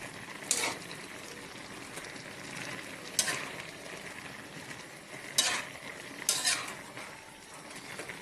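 A utensil stirs taro leaves cooking in coconut milk in a pot, with soft scraping and occasional sharper clinks against the pot over a low simmering hiss, fairly quiet.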